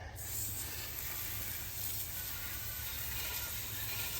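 Steady, continuous spray hissing at close range on an early Schwinn Stingray bicycle wheel, an even rush of pressurized liquid with no pauses.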